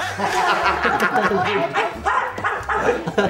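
A man imitates a dog barking in a comedy scene, giving a run of short, gruff, voiced woof-like bursts in quick succession, loud and close, mixed with chuckling.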